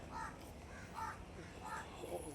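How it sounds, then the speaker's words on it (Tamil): A crow caws repeatedly near a hillside temple, about four loud rhythmic calls spaced roughly half a second apart over faint outdoor background noise. "நம்மளுக்கு காக்கா வேறு கத்திட்டு இருக்குது."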